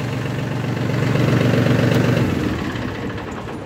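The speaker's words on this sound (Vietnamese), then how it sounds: "Rồi, động cơ ba máy nha." A small three-cylinder engine idles close by with a steady low throb that swells slightly mid-clip, then settles and fades a little toward the end, with no voices.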